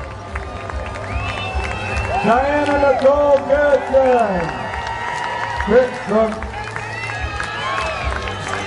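Spectators applaud and cheer steadily for Ironman finishers crossing the line at an Ironman Tremblant finish, a broad crowd wash under a loud announcer calling out names over the PA.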